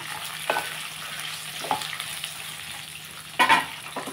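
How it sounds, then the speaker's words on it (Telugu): Coconut pieces frying in a pan with a soft, constant sizzle, broken by three louder scraping stirs of a spoon against the pan, no talking. "ఇందులో ఇప్పుడు మనం కొబ్బరి ముక్కలు కూడా వేసేస్తున్నామండి."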